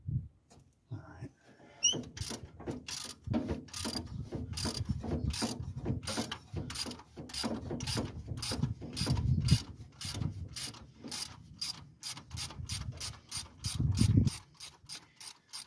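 A ratchet wrench loosens bolts on a 1970 Dodge D200 truck that sat off the road for years, giving rapid, steady clicking runs close to the microphone, with short pauses between strokes and a faint voice in places.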